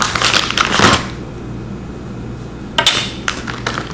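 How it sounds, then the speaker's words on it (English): Small metal Roman shade bead chain parts, spears, a disc and screws, clatter out of a bag onto a surface in two brief jingling bursts separated by quiet. "go ahead and open it and pour the items out here in front of you"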